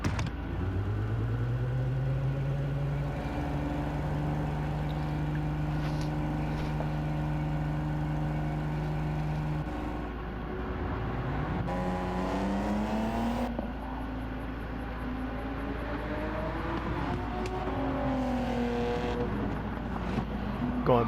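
Twin turbo GTO race car engine in Gran Turismo 7, droning and revving through gear changes with pitch climbing and falling, a steady loud game engine note with someone talking over it.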